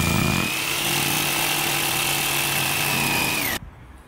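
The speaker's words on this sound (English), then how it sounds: "I'm going to cut the ply out to suit this shape" Power tool cutting a hole in a plywood panel for a new Sprinter camper van floor, a steady high-pitched whine holding for several seconds before cutting off sharply, loud and close, with no talking.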